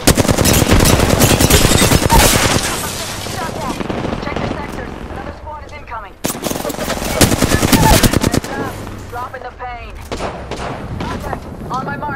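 Rapid gunfire in the Apex Legends video game comes in dense, loud bursts with booming impacts, along with game sounds and brief gaps, and a voice speaks amid the shooting.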